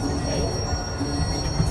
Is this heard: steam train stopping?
yes